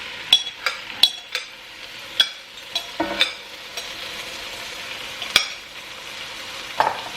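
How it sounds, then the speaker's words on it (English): A utensil stirs green chile enchilada sauce in a pan, with sharp clinks and scrapes against the metal at irregular intervals over a soft sizzle, close and without talk. "We're going to give it a good stir"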